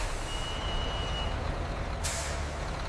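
A truck pulling up at a gate at a leather factory, engine rumbling low and steady with a faint tonal beep, then a sharp loud hiss of the air brakes releasing near the end.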